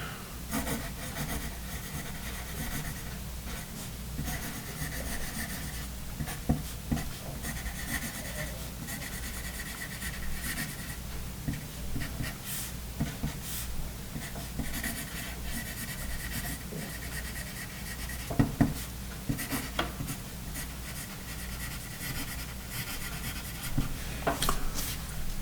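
Pen and Gear No. 2 wood pencil writing on paper, close scratchy rubbing strokes with short pauses and occasional sharper ticks of the point, continuous and fairly quiet.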